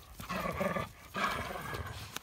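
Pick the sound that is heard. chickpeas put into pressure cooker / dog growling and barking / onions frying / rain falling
dog growling and barking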